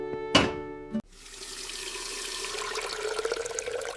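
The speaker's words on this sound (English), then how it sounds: "I fill the pot with enough water." Tap water runs into a cooking pot, starting after a brief clatter and then flowing as a steady hiss that gradually gets louder and fuller as the pot fills.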